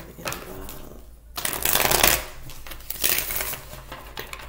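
A deck of tarot cards is riffled and cut by hand, giving crisp, rapid flapping bursts, the loudest in the middle, with quieter card handling around them.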